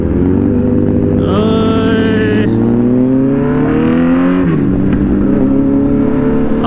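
Two loud Kawasaki Z900 motorcycles rev hard nearby, their engine notes climbing and falling in long sweeps with one sharp high blip, continuous and close throughout.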